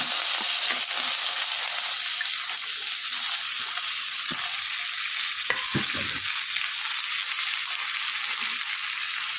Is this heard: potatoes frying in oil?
yes